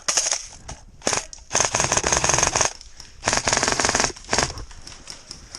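An airsoft gun fires rapid full-auto bursts on an outdoor game site. The bursts are loud and close, several of them with short gaps between, and the rattling clatter is sharp like a typewriter.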